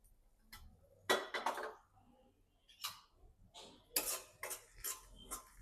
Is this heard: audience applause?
no